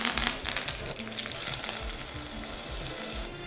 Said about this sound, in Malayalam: ഇത്തിരി വേപ്പിലയും കൂടി ഇട്ട് കൊടുക്കാം.